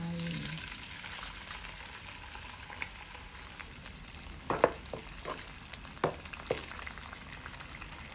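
Egg frying in a pan for pad thai, a continuous close hissing sizzle with a few sharp crackles and spatters partway through, and no voice.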